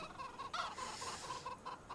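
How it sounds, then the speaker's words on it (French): Hens clucking on a farm, a run of short repeated clucks in an uneven rhythm, fairly close, with several birds overlapping and no talk. "Là, normalement, vous avez mes poules, vous voyez,"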